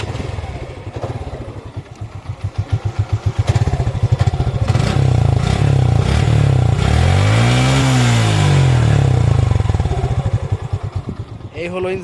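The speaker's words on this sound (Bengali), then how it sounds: "এই হলো ইঞ্জিনের সাউন্ড, আপনারা দেখতে পেলেন ইঞ্জিনের এই হলো সাউন্ড।" A modified Suzuki Gixxer Monotone motorcycle engine runs up close, idling with a pulsing thump, then revving up and back down in a rising and falling whine before settling to idle, with a voice speaking briefly.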